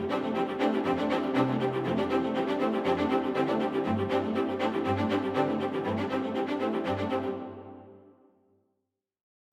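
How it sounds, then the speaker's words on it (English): Cicada Strings virtual instrument plays a sustained, shimmering string texture with a steady low pulse underneath, holding at an even level before fading out into silence. "The second instrument I started with was the Cicada Strings, which sounds like this."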